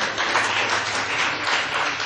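Applause from an audience at a community meeting, a brief, even burst of many hands clapping at moderate loudness.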